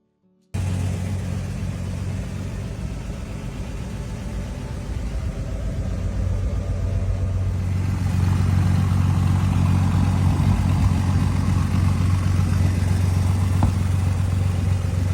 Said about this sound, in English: straight pipes give it a loud and deep exhaust note